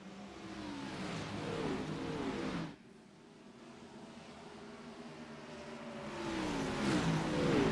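Race cars accelerate on a restart at a small-track Pint Size 100 event, with a Chevy Camaro among them, making a loud roar that drops away briefly and then builds again as the engines rev past.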